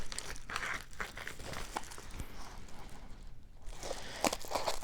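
Strong plastic packaging of uncut promo items being sawed and cut open during an unboxing, giving a steady run of close crinkling, crumpling and tearing with scraping strokes, no talking.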